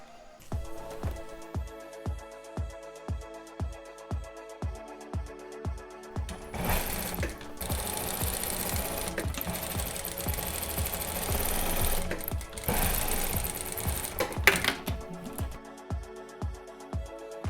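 A sewing machine stitching the hem of a pajama sleeve: short rhythmic bursts of rapid stitching, then a long sustained run, then more short bursts, close and alone.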